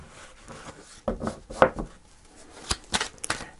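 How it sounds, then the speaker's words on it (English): Tarot cards are shuffled by hand close up in a quiet room, with a series of crisp riffling and slapping bursts spread unevenly, some sharp snaps standing out among softer rustles. "Okay, I'm going to do one more shuffle here."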